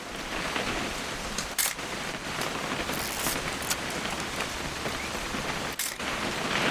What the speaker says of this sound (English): Just want to get a shot of you, Dawn, then we can take off.